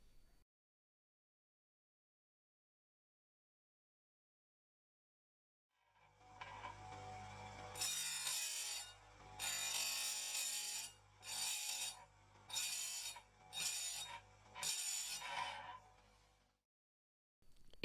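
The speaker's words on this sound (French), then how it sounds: "Effectuez l'affûtage sur l'ensemble des gouges." After several seconds of silence a grinder hums into life, then a chainsaw chain's cutters are sharpened against the wheel in six short, harsh grinding bursts that rise over the motor's steady whir.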